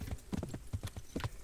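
Horse hooves clip-clopping in the medieval game Kingdom Come: Deliverance, a quick steady run of close, fairly loud hoof strikes with no talk over them.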